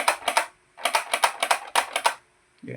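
Ratcheting clicks from the adjustment mechanism of a new Zebra motorcycle helmet with a quick-release strap: rapid bursts of close, crisp clicking in three groups, each separated by a short pause.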